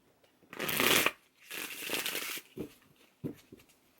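Tarot cards are drawn and laid out, giving soft papery riffles and slides in a few separate bursts followed by light taps, close and quiet with no talk.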